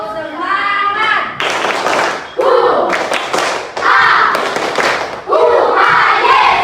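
Children in a classroom chant in unison with rhythmic group claps, loud and close, in repeated bursts of voices and hand claps; an adult voice leads between rounds.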